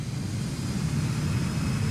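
Thrust reversers roar on an Embraer Lineage 1000 business jet just after touchdown in the X-Plane 12 flight simulator, a steady loud low rumble with no talking.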